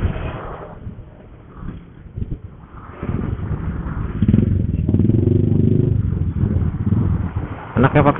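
Motorcycle engines rumble and rev in busy Semarang city traffic, heard close from a moving bike, with rising throttle bursts and a rough idle, while people talk over the engine noise.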